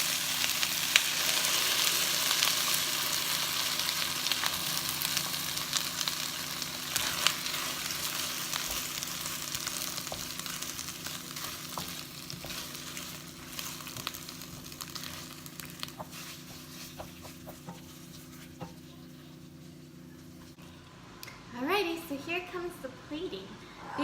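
Vegan sweet and sour TVP frying in a pan, a steady close sizzle with occasional scrapes and stirring, then a burst of bubbling and hissing near the end as the sauce goes in, with a voice talking over it.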